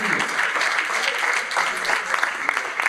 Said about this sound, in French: Bravo à Hicham Raisi, le collectif Applaudissements.